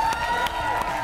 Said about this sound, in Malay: tepuk tangan untuk Tony